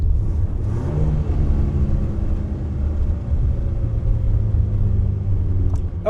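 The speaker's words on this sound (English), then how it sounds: "I'm gonna go in 4th gear and then I'm gonna put it in 1st." A Ford Ranger engine roars loud and close in a deep, sustained rumble, its pitch holding steady under strain after a forced shift from fourth down into first gear.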